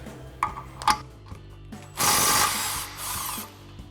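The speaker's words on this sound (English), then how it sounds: "Now we'll go ahead and remove our bottom mounting bolt using our 17 mil socket on our impact." An impact wrench with a 17 mm socket removes the bottom shock mounting bolt during an Eibach Pro-Truck lift install, with a few soft ratchety clicks followed by two short, buzzing rattles of the wrench.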